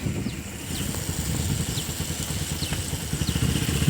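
A motorcycle engine runs close by at a steady idle-like chug, with rapid rhythmic putters and light mechanical clatter; a few faint high chirps sound in the background.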